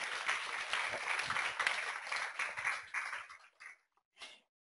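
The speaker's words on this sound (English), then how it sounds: "let's give another round of applause to Pam." An audience claps for a speaker at a university talk event in Minneapolis. The applause runs steady and full for about three seconds, then thins into a few last scattered claps before going quiet.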